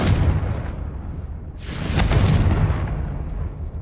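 Confringo fire spell in the video game Hogwarts Legacy: a heavy explosive blast opens with a roaring boom, followed by a second surge of crackling, rumbling detonation that lingers loudly to the end.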